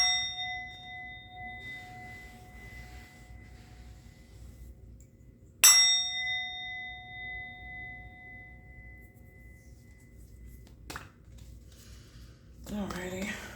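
Three bright metallic bell strikes ring out, the first leaving a long steady ringing tone, the second at mid-clip sustaining a bright decaying tone, and a sharp third strike shortly after, followed by a brief rustle at the end.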